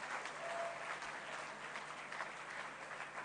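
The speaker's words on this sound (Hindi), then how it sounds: "उपस्थित सभी लोग एक बार जोरदार तालियां अपने लिए बजाइए।" Sustained applause from an audience at a public event with Delhi Chief Minister Rekha Gupta, a dense, steady wash of many hands clapping at a moderate distance for the whole stretch, with no talk over it.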